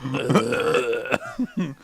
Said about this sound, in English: Coke burps smell way better than radish burps.